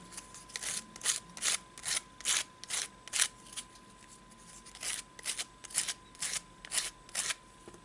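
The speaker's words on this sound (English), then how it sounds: "I will use a piece of sandpaper to make sure the edges of the jewelry dish are smooth." A piece of sandpaper smooths the dried edges of an air-dry clay jewelry dish in steady, close, evenly spaced scratchy strokes, about twenty of them, with no talking.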